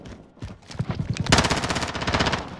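Automatic gunfire in Call of Duty: Modern Warfare, a rapid burst of shots starting softly and then hammering in a steady, loud rhythm for over a second, with no voices.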